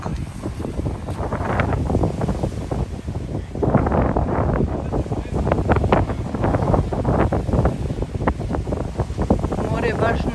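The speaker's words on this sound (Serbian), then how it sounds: "ovo je ova druga vetrovita strana prema Turskoj" Strong wind buffets the microphone on the windswept side of Rhodes facing Turkey, with rough, restless sea waves surging steadily beneath the roar throughout.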